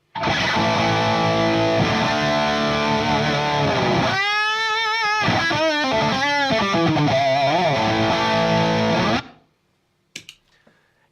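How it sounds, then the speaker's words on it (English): Electric guitar through a Fender Yngwie Malmsteen overdrive pedal, with the noise gate off, plays thick distorted sustained chords and then a run of bending lead notes, loud and alone for about nine seconds before cutting to near silence. "And with the Fender Ingve overdrive, it sounds like this."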